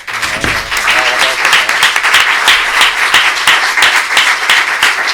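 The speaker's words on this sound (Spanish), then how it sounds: "Un aplauso para él." An audience at a library author event breaks into loud, steady applause for the writer, a thick wash of many hands clapping close by that keeps going from start to finish.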